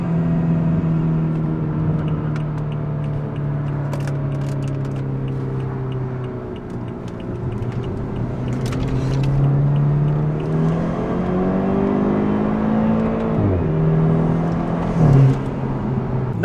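A BMW 328i engine with axle-back exhaust, resonator delete and secondary cat delete hums and rises in pitch as it revs through the gears, a steady droning exhaust note with a sharp shift near the end.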